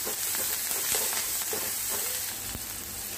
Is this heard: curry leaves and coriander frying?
yes